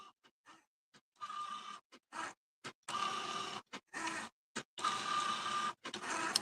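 A Cricut Joy cutting machine drawing with watercolor pens whirs in repeated short and longer bursts, its motor and carriage buzzing on and off with brief pauses between strokes, close and fairly clear with no talk.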